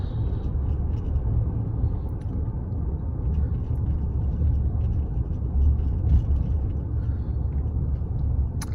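Car driving slowly past Graceland in Memphis, a steady close engine and road rumble with tyre whir that holds at an even level throughout, no voices.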